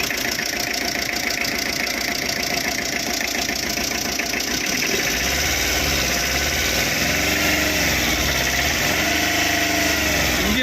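A 2018 Tata Ace mini truck with a plain BS4 engine idles close by, a steady rough mechanical chatter with a low throbbing pulse that strengthens partway through, no voices over it.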